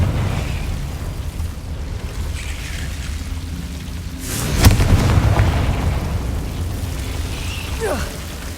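A Confringo blasting spell in Hogwarts Legacy on PS5 goes off as a sudden loud boom midway through, then rumbles and fades under steady game ambience.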